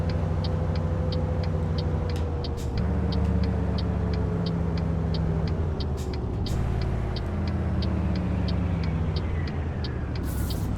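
A Volat military truck in American Truck Simulator drives with a steady, even engine drone, joined by regular high ticking and a couple of short hissing bursts, with no talk.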